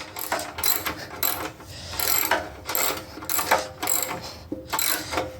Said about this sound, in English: I'm gonna loosen these bolts